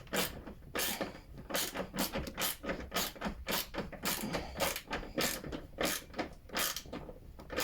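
Bolt on a BMW E46 330Ci Clubsport headlight washer repair spinning without tightening, giving a steady run of ratcheting clicks and creaks, close and fairly loud, with no talking.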